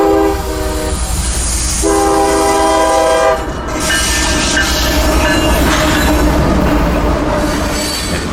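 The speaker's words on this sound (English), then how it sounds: "here's train M457" Southbound freight train M457 led by ES44AC and ES44AH locomotives, hauling small hoppers of sand or cement and refrigerated boxcars, passes close with loud sustained horn blasts over a rumbling engine roar and rolling wheels.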